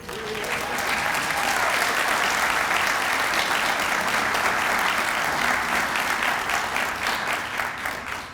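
Sustained applause from an audience at a toast honoring a couple's leadership, a broad, even wash of many hands clapping that holds steady and loud throughout.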